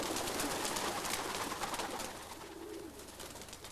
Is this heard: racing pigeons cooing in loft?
yes